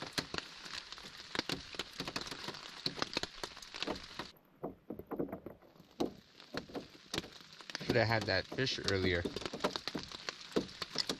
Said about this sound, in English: Didn't know it was gonna rain this much.